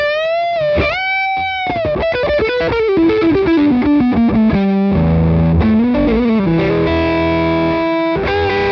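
A high-gain electric guitar tone through a Chevtone Messiah Drive Plexi-style pedal, played loud and alone as a continuous run of distorted notes, bends and chords with no talk.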